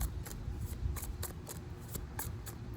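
Faint, crisp riffling of non-traditional tarot cards being shuffled by letting them fall, a quick run of repeated flutters at an even rhythm, close and quiet, with no talking.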